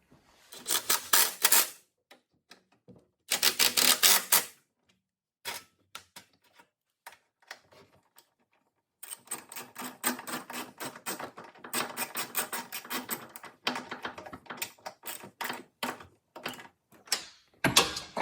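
Bolts are tightened with a ratcheting tool in rapid clicking bursts, some long runs and some short strokes with gaps between, up close and clear with no one talking.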